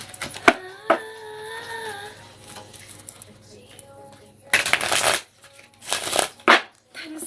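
Playing cards riffle-shuffled several times, giving short bursts of crisp fluttering rattles near the end, after quieter stretches with faint background music and brief talk.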